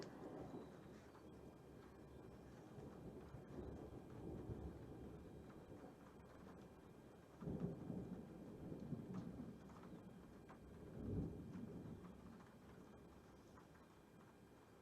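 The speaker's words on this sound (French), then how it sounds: "Voilà, c'était l'orage." A thunderstorm over a vegetable garden, faint and distant rumbles rolling in low swells over a constant hiss, with two stronger peaks partway through.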